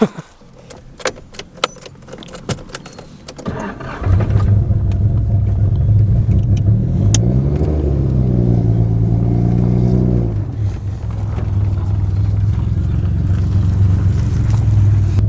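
A 1986 Nissan 300ZX starts up after a few clicks and clatters, then idles and revs with a loud close rumbling engine note that rises and settles, staying steady to the end.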